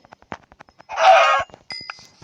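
A chicken in the Minecraft video game gives a short, clear clucking burst at close range, with faint clicks and small game sounds around it.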